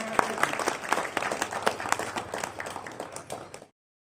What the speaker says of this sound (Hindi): स्वागत तालियां